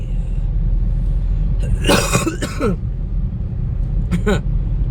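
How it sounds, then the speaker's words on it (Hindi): A couple of harsh coughs burst out close by, followed moments later by a shorter cough, over a constant low rumbling background. "अभी खांसियों का सेशन आता रहता है मिड में"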